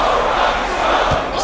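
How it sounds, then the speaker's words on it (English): A basketball arena crowd in the NBA 2K24 MyCareer video game, during a Houston Rockets comeback, roars and cheers in a loud, continuous wash of noise. "You hear the crowd?"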